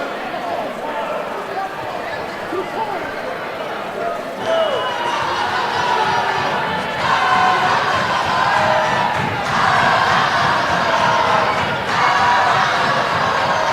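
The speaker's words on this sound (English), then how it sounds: "Crowd starting to warm up." A crowd at a boys varsity high school basketball game between Salesianum School and Howard High School of Tech roars and cheers, swelling louder in waves while a voice talks over the noise.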